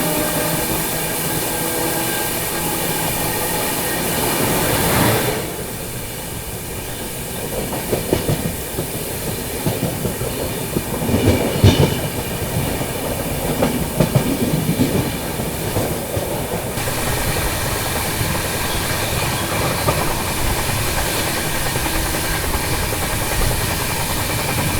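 The Duronto Express between Mumbai Central and Nizamuddin rolls along at speed with a loud, continuous rumble and rhythmic clickety-clack of wheels over rail joints, heard from inside the coach throughout with no talk.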